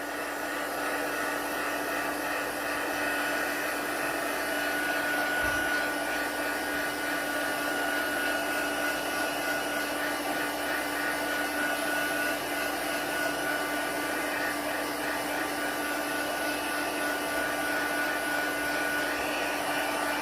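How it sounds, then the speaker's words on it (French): A heat drying tool blows a constant, even whir over plastic film and pearl lacquer, staying close and unbroken throughout with no talk. "Alors, je vais juste activer le séchage."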